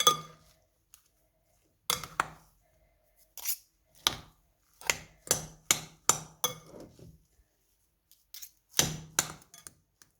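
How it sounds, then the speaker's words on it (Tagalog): A utensil stirs and mixes potatoes with cheese in a pan, producing a series of sharp, irregular clinks and scrapes against the metal, spaced by short pauses, close and without talking. "Ihalo-halo natin dito guys sa ating patatas."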